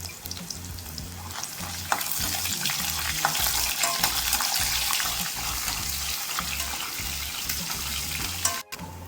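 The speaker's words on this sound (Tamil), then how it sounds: "முந்திரி பருப்பு சேர்த்துக்கிறேன். இது எல்லாமே மீடியம் ஃப்ளேம்லேயே வச்சு பொறுமையாக நல்லா வதக்கி சேர்த்துக்குவாங்க" Cashew nuts sauté in a pan over a medium flame, giving a steady, close sizzle with occasional stirring scrapes and no talking.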